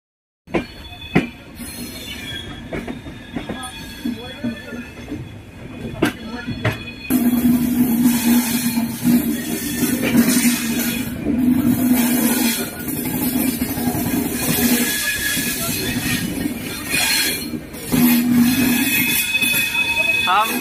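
A passenger train running on rails on the Darbhanga to Kolkata route, heard from inside, with a loud continuous rumble, rhythmic clatter and a low hum that swells after a few seconds and carries on steadily.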